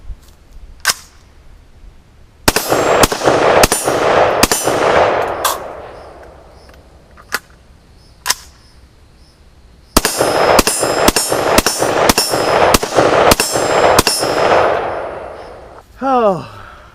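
AR-15 rifle shots ringing off an AR500 half-inch steel plate on an outdoor range: a few scattered loud cracks, then two rapid strings of shots each followed by a metallic ping, echoes trailing between bursts.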